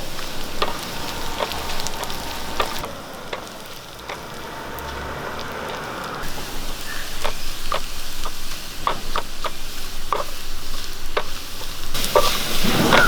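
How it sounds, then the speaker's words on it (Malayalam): Chopped shallots and four dried red chillies fry in hot oil for a tempering poured over milky tapioca, giving a steady close sizzle with sharp crackles and pops that grow busier toward the end, with no talk. "ശകലം ചുവന്നുള്ളി അരിഞ്ഞ ഇട്ട് കൊടുക്കാം നാല് വാറ്റൽ മുളക് ഇട്ട് കൊടുക്കാം"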